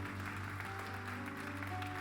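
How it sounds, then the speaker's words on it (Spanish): Congregation applause at a Christian congress service, a steady dense clapping wash over sustained organ or keyboard chords throughout. "Alguien dele un aplauso a Dios,"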